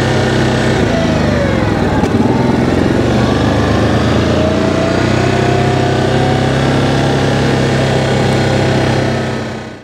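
A 2022 Yamaha Grizzly 700 ATV engine drones steadily and loudly while cruising down a suburban street at night, with a continuous buzzing hum and slight pitch shifts and no voices.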